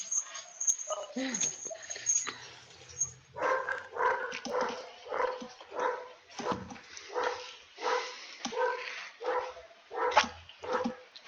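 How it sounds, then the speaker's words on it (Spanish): A dog barks repeatedly in a steady run of close yaps, mixed with whimpering and whining, while people talk in the background. "Te cae bien el perro, por suerte."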